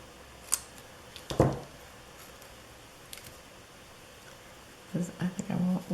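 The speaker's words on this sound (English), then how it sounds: "And I think I'm gonna actually cut these apart." Scissors cutting scrapbook paper, with a sharp snip up close, a few light clicks, and a voice talking near the end.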